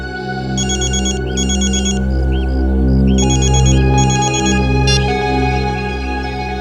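A phone ringtone plays loudly and steadily, a repeating electronic melody with rhythmic bursts of bright tones over a steady low hum, with no speech.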